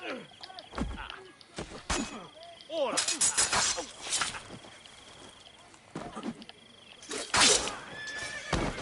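In Assassin's Creed Brotherhood, a horse gives several loud, close whinnies and neighs in bursts, with hoof clip-clops and sharp impact sounds between them.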